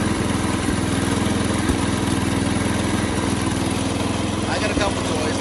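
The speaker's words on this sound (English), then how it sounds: "Mower deck works." A Jacobsen Chief 1200 garden tractor runs with its mower deck engaged, its engine chugging in a steady, loud, close rhythm from start to finish.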